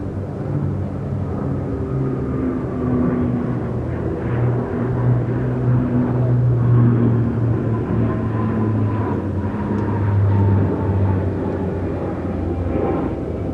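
A military transport aircraft, the Spartan C-27J, passes during a flying display at NATO Days, its steady engine drone and rumble continuing loud and unbroken, with no talk.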